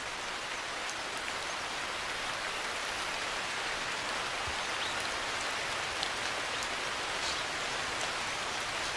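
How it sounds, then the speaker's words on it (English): Heavy monsoon rain pours over an Indian rainforest, a dense, unbroken hiss of drops on leaves and ground, steady and enveloping for the whole stretch. "Within the forest, the rains awaken life."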